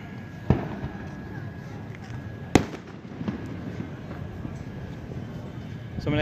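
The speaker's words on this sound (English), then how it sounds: "these fireworks launchers that the students are using" Fireworks mortar launchers fired by students at a demonstration in Nicaragua: two sharp, loud bangs a couple of seconds apart, followed by a softer pop over steady outdoor background noise.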